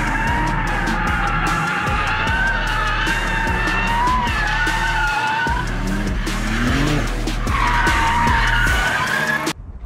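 A 2021 BMW M3 Competition G80 with the carbon pack drifts on Réunion, its tires squealing loudly and continuously over the roaring engine, with the pitch rising and falling throughout.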